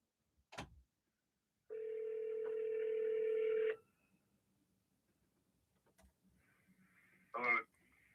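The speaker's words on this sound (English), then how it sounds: "And phone is ringing." Telephone ringback tone on an outgoing call, a single steady ring burst lasting about two seconds, clear and close, followed by quiet line noise and brief clicks.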